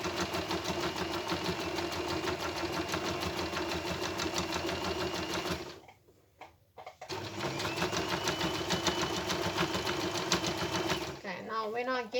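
Serger overlock sewing machine stitching a cloth pad, a fast steady mechanical whirring chatter that stops briefly midway with a few soft clicks, then resumes at the same busy pace, close and clear.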